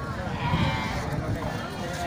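Livestock goats, kacang goats kept alongside rams, giving a short bleat over a background of people talking nearby.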